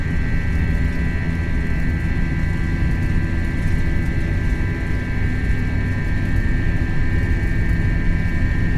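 Airbus jet engines at takeoff thrust in a flight simulator game, a loud, steady, unbroken roar with a sustained whine throughout and no talking.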